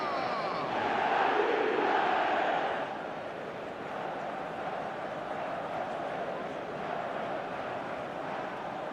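Stadium crowd in an EA FC25 Manchester United match swells into a loud roar for about two seconds, then settles into a steady, busy murmur of distant voices.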